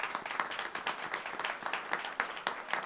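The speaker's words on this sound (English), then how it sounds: "a round of applause for Lab B" A small audience at a suburban civic speaker series gives a round of applause, individual claps distinct and rhythmic at moderate volume, fairly close and with no talk over it.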